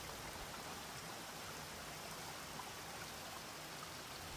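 Heavy rain and flash-flood water rush down the sidewalks of a Gatlinburg arts-and-crafts shopping area, a steady, dense wash of noise with no breaks, close and continuous.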